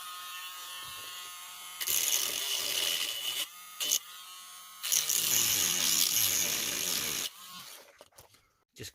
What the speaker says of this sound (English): Just cutting off the lumps now